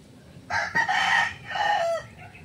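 A Red Kelso gamecock rooster crows once up close, a loud full cock-a-doodle-doo lasting about a second and a half over quiet background.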